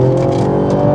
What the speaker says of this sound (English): we're going to attack this corner full throttle